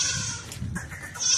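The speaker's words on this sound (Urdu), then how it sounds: "سب سے بڑی مکھی چینی بکری ہے, گبن تیار بکری ہے." A pregnant Makhi Cheeni goat on a village farm bleats in a couple of nasal cries close to the listener, with faint background noise between calls and no talking.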